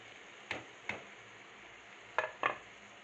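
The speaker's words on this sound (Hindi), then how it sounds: "अब हम इसके अंदर शिमला मिर्च और टिंडे डाल देंगे।" A spoon strikes the pan four times in quick scrapes and clanks as capsicum and tinda are stirred into frying masala over a faint background hiss, with no talking.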